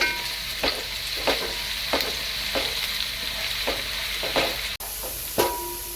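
Onions frying to golden brown in a pan, a continuous sizzle punctuated by regular spatula scrapes and stirs roughly every half second, close and moderately loud.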